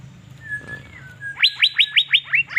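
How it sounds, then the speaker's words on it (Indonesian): A caged cucak biru sunning in Banjarmasin gives a thin whistled note, then a rapid series of about eight bright, evenly spaced chirps, loud and close, over a faint low hum. "Siang ini kita mau dengerin ocehan burung cicak biru."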